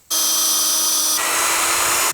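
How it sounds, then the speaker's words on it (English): A power drill pre-drilling a screw hole in a tiny house floor joist, one continuous close whine lasting about two seconds, its tone shifting midway as the bit bites in, stopping abruptly. "I'll pre-drill my hole and then put the screw in"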